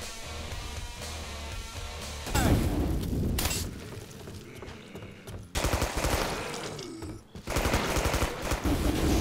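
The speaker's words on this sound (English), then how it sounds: "I've found my best tactic to use the AA-12 shotgun and just lay on that fucking trigger until all the rounds are gone" Rapid shotgun blasts from an AA-12 emptying its magazine in the video game Killing Floor, in dense loud bursts with short pauses, alongside other gunfire and explosions of battle.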